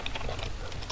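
Quick, close keystrokes on a computer keyboard while entering Java code for a Pong game, a brief patter of light clicks with no talking.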